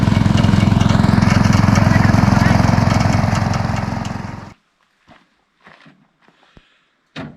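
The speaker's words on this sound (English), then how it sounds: "we went to pick up this second-hand ride-on mower" A second-hand ride-on lawn mower's engine runs loud and close with a throbbing, pulsing rumble before cutting off abruptly, leaving quiet with faint knocks and rustles afterward.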